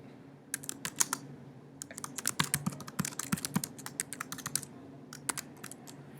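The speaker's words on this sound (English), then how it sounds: "If I were just to type in something like" Someone types on a computer keyboard in quick, uneven bursts of light key clicks, near and fairly quiet, with no talking.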